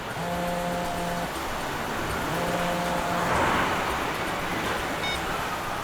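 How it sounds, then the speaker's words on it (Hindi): A car drives along a road, with a constant engine and road rumble filling the scene, a few faint sustained tones riding over it, and a slight swell in the middle. "गाड़ी चला रहा हूँ, ऑफिस पहुंच के फोन करूंगा तुम्हें"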